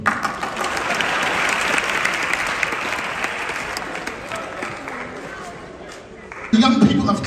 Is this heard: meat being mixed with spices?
no